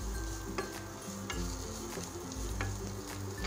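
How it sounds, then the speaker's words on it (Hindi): A peanut mixture for Kolkata-style aloo chop sizzles and fries steadily in a pan while a spoon stirs and scrapes at a regular rhythm, close by. "मूंगफली साथ इसको हम एक मिनट के लिए भून लेंगे"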